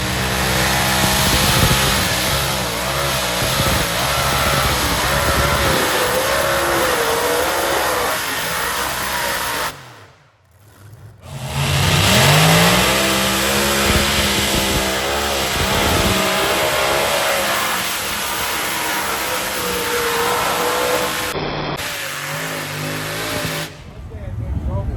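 Multi-engine modified pulling tractors with several motors close together and log manifold headers roar continuously and loudly at a national championship tractor pull, the engine blast dropping out briefly twice, with an announcer talking over it.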